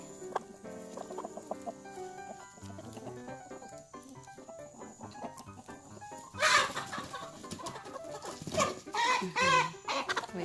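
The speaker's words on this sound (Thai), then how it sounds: "ข้างหลังนี่ก็จะเป็นเบตงผสมกับ ไก่บรามานะคะ มีขนถึงปลายเท้า" Betong chickens crossed with feather-footed Brahma chickens cluck on a farm, with soft calls at first and then louder bursts of clucking and squawks in the last few seconds, heard close with no speech.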